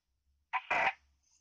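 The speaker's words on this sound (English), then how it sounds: "You can hear the static going off if you so wish to have it." Radio static burst from a Star Wars First Order trooper voice-changer device: two short crackling hiss bursts in quick succession, close and fairly loud, with near silence before and after.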